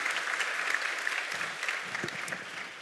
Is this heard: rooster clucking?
no